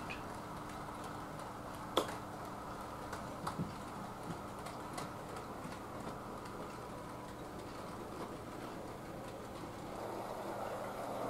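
A Hornby LMS Fowler 2-6-4T model locomotive runs along a track with a soft, steady mechanical whir and a few faint clicks at rail joints, quiet and continuous for the whole stretch.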